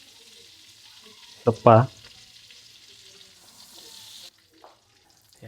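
Margarine sizzling in a pan while making pork caldereta, a steady frying hiss running throughout with a couple of louder bursts of movement near the start and a brief spoken remark over it.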